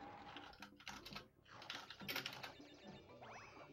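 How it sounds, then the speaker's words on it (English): Quiet clicking of keys on a computer keyboard as chat messages are typed during a Crash Bandicoot race stream, irregular soft taps mixed with faint game sounds. "So I'm just typing some"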